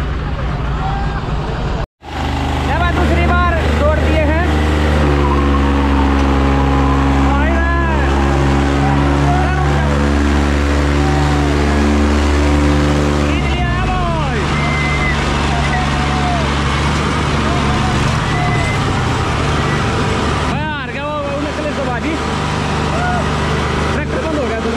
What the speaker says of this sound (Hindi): देखो घूम के ट्रैक्टर दोबारा जुड़ेंगे